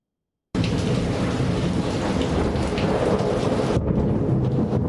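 Heavy rain pours steadily on the University of Ghana campus on a chilly morning, a loud, dense hiss with a low rumble underneath, continuous for several seconds with no voices.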